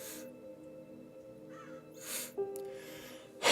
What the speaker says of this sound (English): But yeah, you hear it squawking.